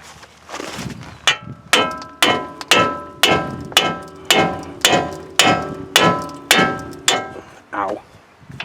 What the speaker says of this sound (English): we're going to use a pickle fork